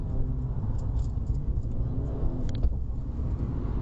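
Car engine pulling steadily during a learner's driving lesson on a road, a continuous low rumble holding at a fairly even level throughout, with no talking over it.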